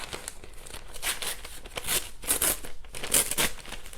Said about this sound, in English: I might have to rip it down and pull it over a little bit further.